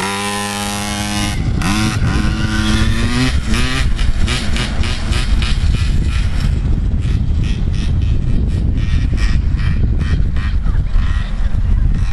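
A KTM 50 kids' motorcycle being ridden: a close, loud, buzzy small two-stroke engine revs up with pitch changes, then settles into a sustained rattling drone.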